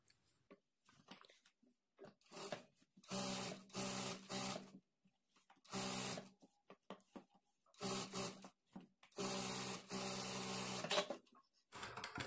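A sewing machine double-stitching puff sleeves onto a garment, running in several separate bursts of steady mechanical whirring with short quiet pauses between them, close and moderately loud, with no talking.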